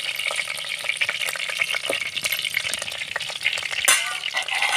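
Chopped onions, garlic and curry leaves hit hot oil in a pan for a brinjal curry, giving a steady loud sizzle and crackle with scraping stirs, close and without talk.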